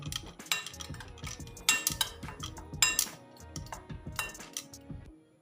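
A spoon stirs baking powder into milk in a bowl, making quick, close clinks and scrapes against the bowl in an uneven rhythm.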